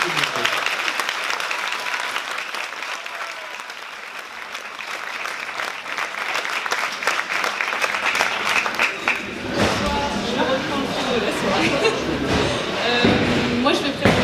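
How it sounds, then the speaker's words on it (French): Audience applauding a municipal election running mate in Yvetot, with broadband clapping throughout that swells and grows denser in the second half, mixed with crowd noise and some voices. "Je pense qu'on peut applaudir très fort Charlotte"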